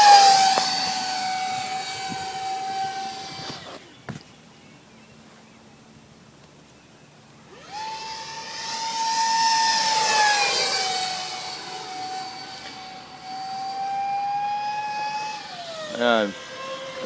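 Hobby King T-45 EPO foam RC jet model making a slow flyby, its electric ducted-fan whine holding a steady pitch, fading out, then returning louder with a sweeping pass before dropping away.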